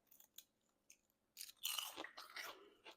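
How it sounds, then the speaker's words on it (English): Close, crisp crunching of someone chewing crispy kale chips, bursts of loud crackly bites with short pauses between, growing denser toward the end. "I am now chewing it. You can see it's really crisp."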